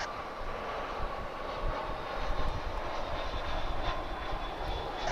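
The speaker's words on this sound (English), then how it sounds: "This is an American Airlines A319" American Airlines Airbus A319 jet landing at Dallas Fort Worth airport, a steady broad engine roar that swells slightly in the middle and holds at a moderate distance.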